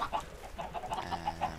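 Minecraft chickens on a working chicken farm cluck in soft, repeated short bursts, a faint, steady pecking chatter from a few birds, with no one talking.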